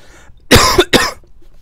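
Two sharp, harsh coughs in quick succession, close to the microphone, with quiet before and after.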